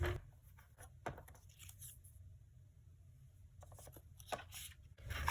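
Card paper being trimmed for a waterfall card with a paper cutter or scissors, a few quiet close slicing and sliding strokes with pauses between them.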